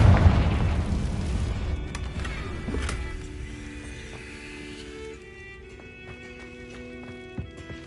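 A Confringo fire spell bursts in Hogwarts Legacy with a loud, booming blast at the start that rolls off into a long, fading rumble, with thin tonal ringing and scattered clatter lingering afterward.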